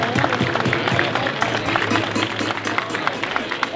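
A crowd at a freestyle rap battle final claps loudly and quickly, dense applause up close, mixed with cheering voices and murmur.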